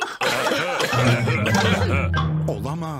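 A single short cough near the start from a cartoon character in Peppa Pig, followed by a voice speaking and a sung or drawn-out vocal tone.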